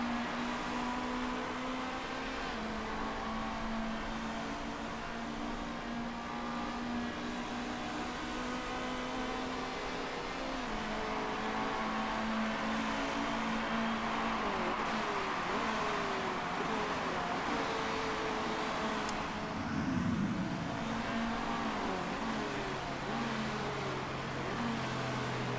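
Race cars in the Motorsport Manager video game, a steady engine drone with shifting tones running continuously throughout, with a brief louder burst near the end.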